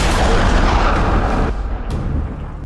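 A loud, booming gunshot-like blast with a dense rumbling tail, followed by a sharper crack near the end.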